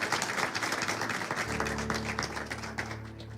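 A church congregation applauds in a large hall, with a dense wash of clapping from many people, fairly loud and sustained, while low musical tones come in underneath partway through.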